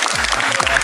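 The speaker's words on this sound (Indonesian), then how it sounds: "Sebelum itu kita tepuk tangan dulu" Hands clapping together in a brief burst during a lively Indonesian group game session, dense and continuous with a low voice or tone running underneath.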